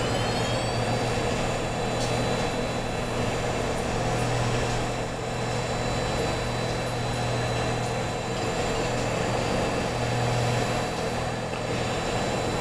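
A Windows computer powering up after blue-screen crashes gives a steady, even whir of cooling fans with a low hum underneath, holding at one level throughout with no voices.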